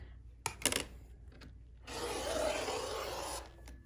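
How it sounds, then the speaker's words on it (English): A rotary cutter slicing the selvage edge off quilting cotton along butted-together rulers gives a steady scraping rasp of about a second and a half, preceded by a few short taps and shuffles, close and fairly quiet with no talking. "I'm just going to start by trimming off our selvage edge and butt my rulers up together like this"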